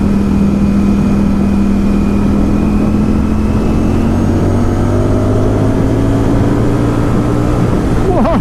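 A 2020 Ducati Streetfighter V4 S motorcycle engine climbs in pitch as it revs past 7,000 RPM on the road, a loud rising drone mixed with constant wind rush.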